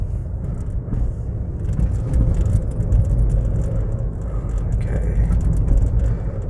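Car engine running steadily while driving, with a continuous low rumble and the shift up into second gear, close and fairly loud throughout.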